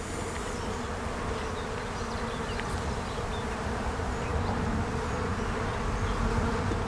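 Honey bees swarm around an open hive box on a homestead, a dense, continuous buzz of many insects close by, with individual bees droning past now and then.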